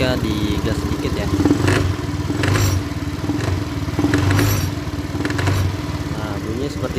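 A Honda Beat scooter with a faulty CVT gives a clattering, crackling engine noise as the throttle is blipped in short bursts over a smooth idle, close by, with someone talking throughout.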